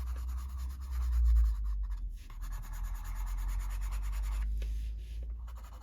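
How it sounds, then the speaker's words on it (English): Coloured pencils in need of sharpening drag scratchily across colouring-book paper in steady, close strokes, a continuous soft rasp with brief pauses and no voices. "If they sound a bit scratchy over here, it's because they need sharpening."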